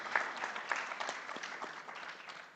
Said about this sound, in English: I'd like you to give her a warm hand of applause.